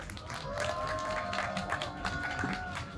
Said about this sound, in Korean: 박수와 함성으로 모시겠습니다